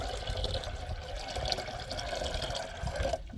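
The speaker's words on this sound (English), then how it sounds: "we're going to add some water to our blender right about now." Water pours steadily into a blender jar while fruit juice is being made, a continuous splashing fill that runs for about three seconds before cutting off.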